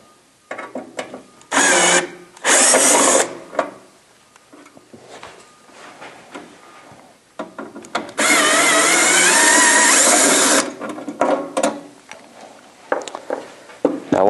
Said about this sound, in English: I'm going to use my drill with a Phillips bit in it.